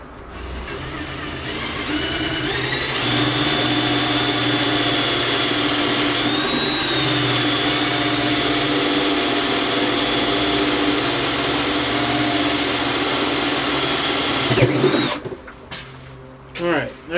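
A power drill whines steadily as it bores holes through a bocote wood biscuit cutter handle, loud and continuous for most of the stretch, then stops and a few shorter bursts follow.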